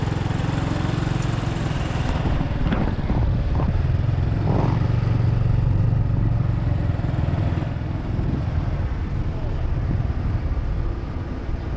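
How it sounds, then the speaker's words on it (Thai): Congested evening traffic on a Vientiane street, motorcycles and cars droning and idling close by in a dense, constant rumble, with a few passing engine swells and a faint voice underneath. "รถติดหลายไปครับ"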